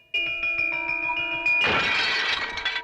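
Glass furniture shatters in a horror film scene: a steady sustained tone rings first, then a sudden loud crash of breaking glass bursts in and scatters into debris that lasts to the end.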